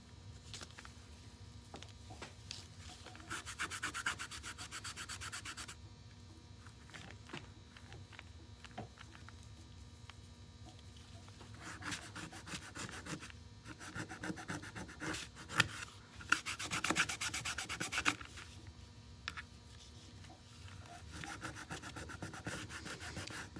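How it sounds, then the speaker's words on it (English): A hand rubs dark stain back on a wooden piece, soft scratchy rubbing strokes in uneven bursts, faint and close. "I'm definitely rubbing it back because the stain is dark and I want to make sure I see wood grain"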